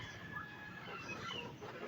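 Chickens cluck softly and repeatedly at a moderate distance, layered over a low background hum.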